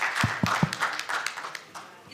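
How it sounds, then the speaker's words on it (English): Brief applause from a conference audience at an international business management and innovation conference, a few scattered claps fading quickly, with faint talk underneath. "Another round of applause for her."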